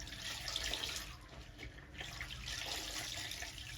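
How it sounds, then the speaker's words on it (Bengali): Bottle gourd leaves are washed in water, with soft continuous splashing and running-water rush close by, rising and easing over a few seconds, no talking. "লাউ পাতাগুলো আমি ভালো করে ধুয়ে জল চিপটে নিলাম"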